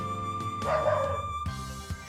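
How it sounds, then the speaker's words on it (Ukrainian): A small dog barks and whimpers in the background during a mushroom-picking outing in the Bukovina Carpathian forest, with a few yips and whines over a steady hum. "там у нас собачка на фоні"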